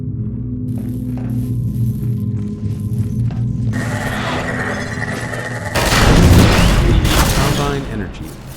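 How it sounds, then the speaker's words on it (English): An energy ball from the video game Half-Life 2 strikes and explodes in a loud, dense burst with crackling debris, following a stretch of layered humming and shimmering game tones. "the sounds made for its impact and explosion sounded less like produce and more like what we have here in the game"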